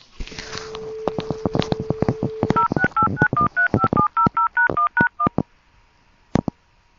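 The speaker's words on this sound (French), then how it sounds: "Je refais sonner le téléphone." A rapid run of touch-tone dialing beeps, short regular tones one after another, following a brief steady tone, then a single late beep. No ringing is evident.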